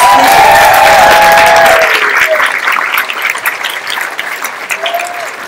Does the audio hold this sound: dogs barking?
no